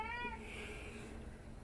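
A cat meows once, fairly faint and close, a short tonal cry that trails off into quiet room noise.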